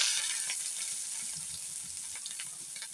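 Onion and coconut sauté in oil in a pan for a chicken gravy, giving a steady close hiss and sizzle with light crackles and soft stirring.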